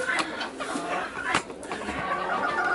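Chickens cluck and murmur close by in a steady, busy stream of short calls.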